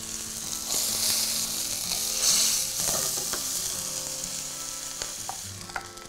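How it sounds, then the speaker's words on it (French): Pork tenderloin sizzles steadily in a hot pan, a loud continuous frying hiss with occasional small pops and scraping, no voices. "Une fois notre filet bien coloré, je baisse le feu et je laisse cuire pendant 20 minutes."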